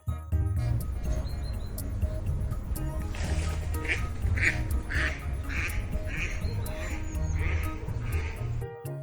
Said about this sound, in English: D for duck. Duck.